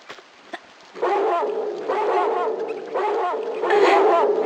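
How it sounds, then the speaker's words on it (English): A dog in the Tomb Raider 2 video game barks and yips in a steady run of repeated calls, clear and fairly close, growing slightly louder toward the end. "You're supposed to bark to signal an intruder, not the archaeologists."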